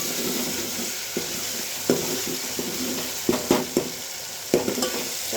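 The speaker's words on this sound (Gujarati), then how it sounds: "આ બાજુ આપણે ટમેટાને હલાવતું રહેવાનું" Tomatoes cooking in a pan are stirred with a spoon, the sizzle and frying hiss steady underneath while scattered scrapes and knocks of the utensil against the pan come through close up.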